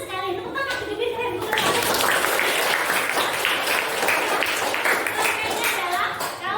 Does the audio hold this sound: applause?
yes